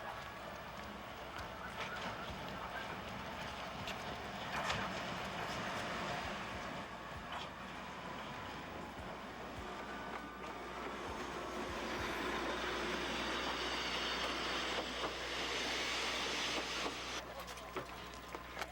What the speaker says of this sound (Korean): 이 역에서 6시 30분에 출발하는 기차를 타고